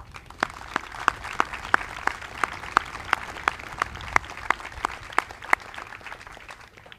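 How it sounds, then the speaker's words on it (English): At an Air Assault boot memorial ceremony, an audience's applause sounds as a soft, spread-out clapping bed punctuated by sharp, evenly spaced loud claps, steady throughout. "Please join me in applauding their incredible efforts."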